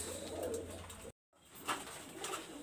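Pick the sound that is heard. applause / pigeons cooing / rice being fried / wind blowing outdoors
pigeons cooing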